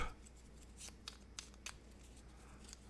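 Cards from the Nova Roma board game are shuffled by hand, giving soft riffling and a few sharp snapping flicks, quiet and close, with no talking.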